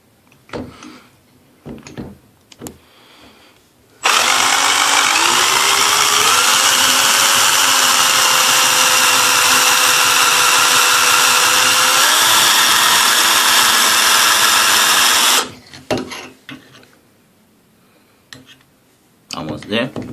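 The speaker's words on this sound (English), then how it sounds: "Start to make the hole." A loud power drill whines steadily for about eleven seconds boring a hole in a Delta valve body, pitch shifting slightly, with quieter clattering and handling noises before and after.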